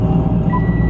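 A vehicle's reversing alarm gives a brief electronic beep over a steady, heavy engine rumble, close by and fairly loud.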